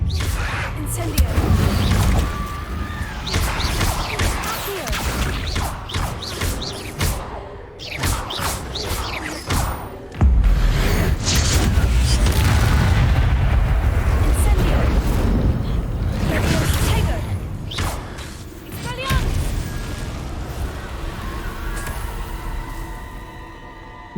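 Incendio fire spell cast in the Hogwarts Legacy video game: loud, sustained roaring bursts and booming blasts that swell and cut off repeatedly, dense and close, over a busy game soundscape.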